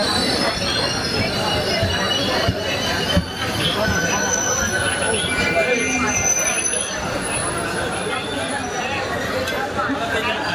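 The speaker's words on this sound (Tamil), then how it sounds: "திருப்பூர் ரயில் நிலையத்தில் கூட்டம் அலைமோதியது" A crowded railway station in Tiruppur, with trains rumbling and wheels squealing loudly and continuously under a dense murmur of crowd chatter.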